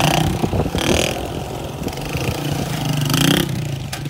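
Motorcycle engine revving in neutral, loud and close, with repeated throttle blips rising and falling and some mechanical clatter throughout.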